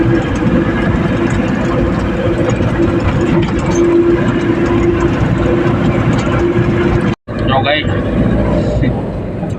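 A loud, steady rumble of a train rolls past, briefly cutting out near the end, with voices faintly underneath.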